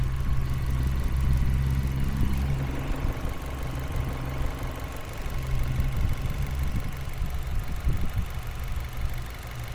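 A 2017 Nissan Grand Livina XGear CVT engine idles steadily up close, its low, even rumble holding a regular rhythm with no voices.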